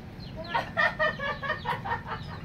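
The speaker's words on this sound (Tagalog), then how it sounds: "Akala ko manok yung natawag." A chicken clucks and calls in a quick run of short rhythmic squawks, fairly close and clear above a low steady background hum.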